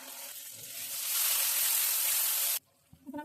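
Tomato paste hitting a hot pan of spice paste for a duck curry with almond and coconut, giving a loud, steady sizzle that swells and then cuts off abruptly, followed by a few soft stirring clinks.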